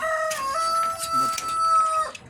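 A Brahma rooster crows loudly and steadily over a busy background, with low clucking from other Brahma chickens mixed in.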